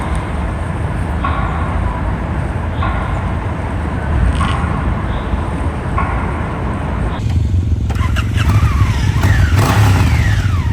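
Motorcycles on a biker ride rumble and rev together in a loud, continuous engine drone, with a passing machine's roar rising near the end.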